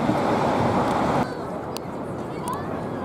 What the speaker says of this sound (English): We're going so close to the falls with the boats.